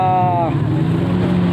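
Speedboat out on the water near a rusted pier of dark rocks and pillars, a steady engine drone with wind and water noise throughout, rising slightly toward the end.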